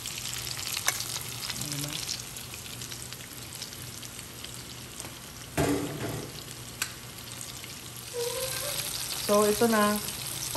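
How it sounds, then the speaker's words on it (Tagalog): Chicken pieces for orange chicken sizzling in hot oil during a second fry, a steady crackling hiss with occasional stirring scrapes, and a person speaking briefly over the frying. "Magse-second fry tayo dito para crispy siya."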